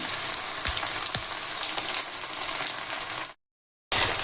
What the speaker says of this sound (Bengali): এটা একটু ভালো করে একটুখানি কষিয়ে নেব